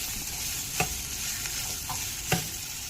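Onions frying in a pan with mustard seeds and green chilies, a steady close sizzle with a few brief stirring clicks and taps scattered across it, no voices.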